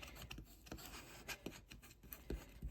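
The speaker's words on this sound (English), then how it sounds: "use my Cricut scraper just to sort of burnish it down" Cricut scraper rubbing and burnishing washi tape onto journal paper, faint close scrapes and short rasping strokes in an irregular rhythm, alone in a quiet room.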